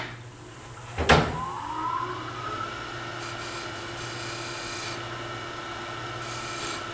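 A wood lathe spins as a thin parting tool cuts a recess into the wooden top of a turned box, with a sharp bite of contact followed by a steady scraping whine over the constant motor hum.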